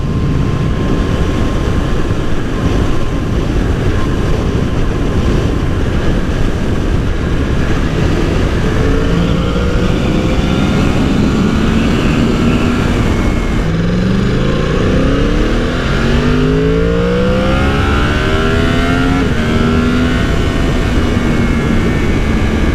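A 2020 Yamaha R1 sport bike accelerates hard through repeated pulls, its loud, buzzing engine note rising in pitch through the gears over constant wind roar, close and continuous without speech.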